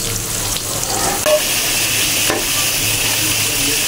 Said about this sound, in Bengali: আলুটা লাল করে ভেজে নিলাম।